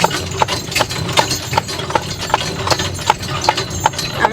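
Steady clip-clop of a horse's hooves pulling a buggy along a road, roughly two or three strikes per second in an even rhythm, close and clear over a low rumble of wheels.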